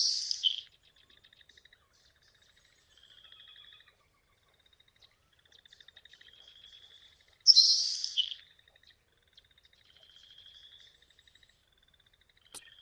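Nelson's sparrow singing in a prairie marsh: two short, sizzly, hissing insect-like bursts about seven seconds apart, with faint high ticking notes in between, quiet and with no voices.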